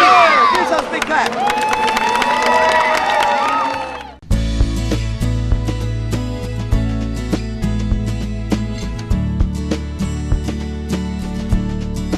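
At a Tang Soo Do association's 25th anniversary event, a large crowd cheers, shouts and claps loudly for about four seconds. The roar then cuts off abruptly and music with a steady beat begins.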